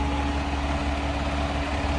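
A truck engine idles steadily with a low, rumbling drone and even hum, continuous and close for the whole stretch with no talking.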